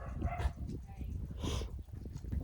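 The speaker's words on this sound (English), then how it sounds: "Our neighbor's dogs are out in their front yard, apparently." Dogs in a neighbor's front yard bark and yip in short bursts, moderately loud and somewhat distant, with some talk mixed in.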